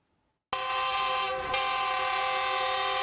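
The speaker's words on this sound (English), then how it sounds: "The last hiss from the high-speed train announcing its arrival at the Yaoundé train station." A high-speed express train arriving at the Yaoundé station gives a sudden loud, sustained hissing blast that starts abruptly and holds steady, with a brief dip partway through.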